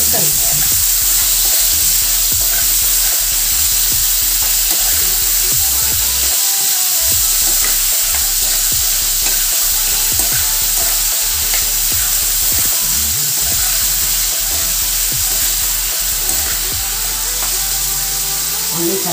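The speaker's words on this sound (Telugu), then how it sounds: "ఒకసారి కలుపుతాను" Eggplant and salted fish curry fries in a pan while being stirred, making a loud, continuous close sizzle with scraping stir sounds throughout.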